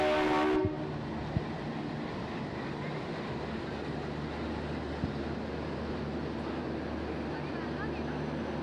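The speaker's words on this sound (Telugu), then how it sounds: "అదిగోండి, మన దేవగిరి ఎక్స్ప్రెస్ అనేది ప్లాట్ఫామ్ నెంబర్ 18లోకి షంట్ చేస్తున్నారు." The Devagiri Express shunts onto platform 18 at Mumbai CSMT, opening with a short horn blast that gives way to a steady, broad rumble of rolling wagons with a few faint clanks, with voices in the background.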